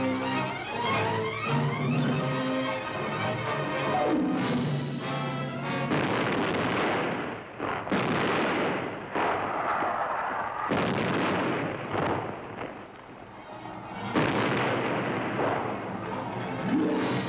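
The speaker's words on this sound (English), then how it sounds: "14 and 16-inch rifles are loaded. The naval bombardment of Japan begins." The 14- and 16-inch guns of a US Navy battleship thunder in a 1945 bombardment of Japan, a run of loud, heavy blasts and rolling booms with brief dips between salvos, close and overwhelming.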